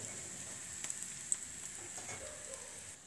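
Beaten rice (aval) frying in a pan, a steady soft sizzle with faint crackles and a few sharper pops, close and low in level, with no talking.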